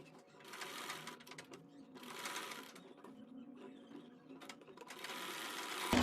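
A sewing machine stitches along the neckline of a ladies suit beside the buckram, in three separate close bursts of fast mechanical whirring with quiet pauses between.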